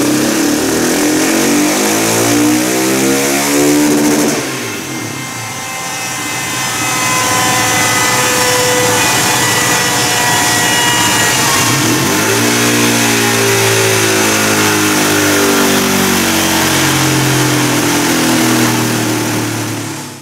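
A tuned 2017 Husqvarna 701 single-cylinder motorcycle engine revs hard on a dynamometer, loud and close: a rising wail, a brief dip around five seconds, then sustained high-rpm pulls that climb again before cutting off.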